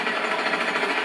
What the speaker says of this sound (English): All you have to do is wait for him to start drilling.